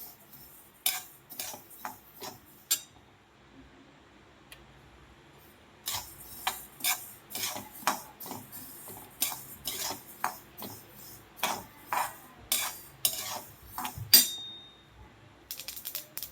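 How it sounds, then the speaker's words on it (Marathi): Niger seeds and sesame seeds roasting in a dry pan for a chutney give irregular bursts of sharp crackling pops and ticks, quiet at first, then denser, separated by near-silent gaps. "इथं कारळे आणि तीळ असं भाजत असताना चटचट आवाज येतोय बघा"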